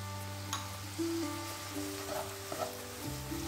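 Crushed ginger drops into onions and tomatoes frying in a pan for a rice dish, giving a soft, steady sizzle throughout with a few light clicks and stirring taps, quiet and alone.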